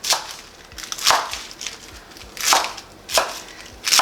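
A knife chops salad ingredients on a board in a few separated bursts of crisp cutting, close and fairly loud with quiet gaps between strokes.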